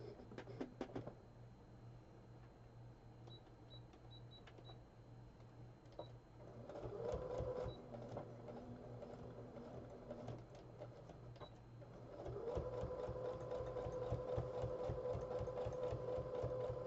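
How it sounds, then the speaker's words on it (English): A sewing machine runs a straight stitch on doubled fabric for a sleeping bag: a steady mechanical whirr in two long runs with clicks between them, close but fairly quiet, with no talking. "now I got a straight stitch, and I'm just going to stitch down here"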